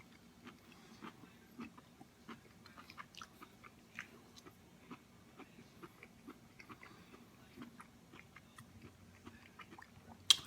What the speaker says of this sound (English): let's give this cauliflower a taste